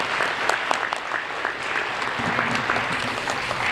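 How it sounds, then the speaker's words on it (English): A polite round of applause from the audience at a Hall of Fame induction ceremony, with steady scattered clapping from many hands across the whole stretch and no voices over it. "could I have a polite round of applause for all of our current and former Hall"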